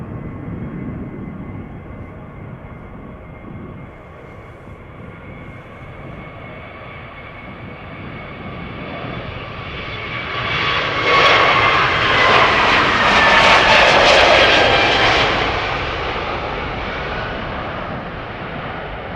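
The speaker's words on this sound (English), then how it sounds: "Aegean flight 3625 up next, outbound to Athens, A321neo, 3 years old, first flight November 2020." An Aegean Airbus A321neo jet departing for Athens builds from a low rumble into a loud, rising engine roar with a high whine, peaking past the midpoint and then slowly easing as it climbs away.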